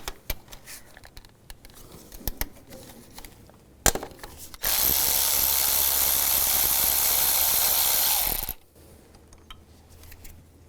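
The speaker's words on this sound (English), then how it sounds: "down here, we're going to use a 13mm socket. Take this bolt out" A ratchet turns a 13mm socket to remove a bolt from the thermostat housing area of a 2001-2006 BMW 325xi, sparse clicks and knocks, then a sustained rough grinding buzz for about four seconds before quiet returns.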